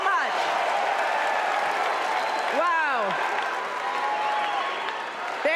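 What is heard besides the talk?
crowd cheering and applauding at a rally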